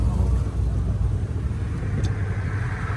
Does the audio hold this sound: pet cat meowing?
no